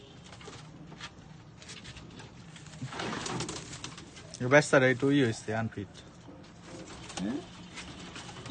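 Pigeons coo softly in a home loft with young birds, low murmuring calls scattered through the clip while a person talks over them.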